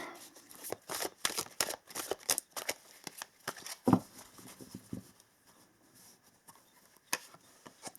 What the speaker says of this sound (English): Let's just shuffle a little bit